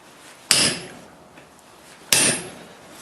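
A hammer strikes an S7 steel chisel twice while forging bolt jaw tongs, each blow a sharp, bright metallic hit with a short ringing decay, spaced about a second and a half apart.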